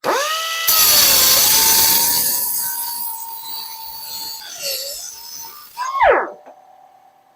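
A cheap Temu cutter and grinder power tool spins up with a sharp start, holds a steady whining motor tone for several seconds, then winds down with a falling pitch near the end.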